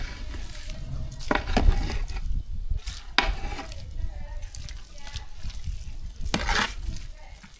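Spoon scraping and stirring sambar rice with a freshly fried tempering mixed through, giving soft wet squelches and clinks over a faint sizzle.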